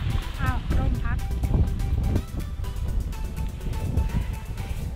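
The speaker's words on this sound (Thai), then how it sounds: "ลมก็แรง ได้ยินเสียงลมไหม" Strong wind buffets the microphone outdoors near water as a boat is underway, a steady broadband rush running through the whole stretch beneath someone speaking.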